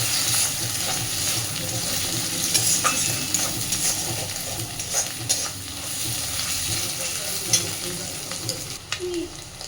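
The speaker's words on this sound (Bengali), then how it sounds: "সুন্দর করে সব কিছুর সাথে ডিমটাকে ভালোভাবে মিশিয়ে মিনিট দিয়ে ভেজে নেব" Egg frying and being stirred with spices in a pan for a Bengali lentil tarka, a steady sizzle with repeated scraping stirs, close and continuous, no talking.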